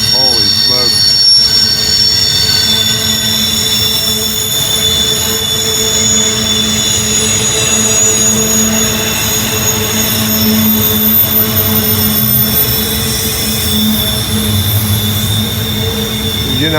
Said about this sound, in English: You get an idea of the power those locomotives have. They can pull that much weight around a curve up a grade like this.